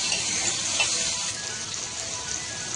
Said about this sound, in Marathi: याला ना तेलामध्ये आपण भाजून घेऊ व्यवस्थित.